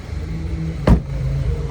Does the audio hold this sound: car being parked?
yes